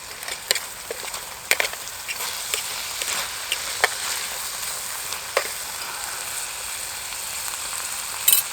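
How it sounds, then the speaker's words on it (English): Garlic and a spice mix sizzling in a pan over a camp stove outdoors, a continuous crackling fry punctuated by clicks and scrapes of stirring, fairly close, with no voices. "Garlic and spice mix straight in there."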